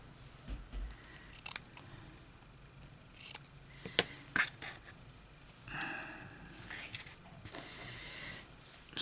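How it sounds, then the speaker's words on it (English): Scissors cutting fabric for a slow-stitch journal cover: several soft, close snips and crisp crunches spaced irregularly across the quiet stretch, with no talk. "I'm going to cut that along here."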